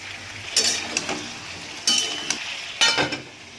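Cut potatoes tipped into a hot pan of jackfruit, three distinct bursts of clattering and sizzling as the pieces land and are stirred, each followed by a quieter stretch of low frying hiss.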